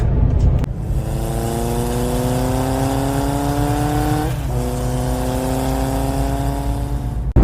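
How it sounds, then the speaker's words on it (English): A nearby motorbike engine revs up through rising gears and accelerates away, one gear change midway, loud and steady without talk. "There is a very nice motorbike in front of me. I'm going to catch him as he zooms off."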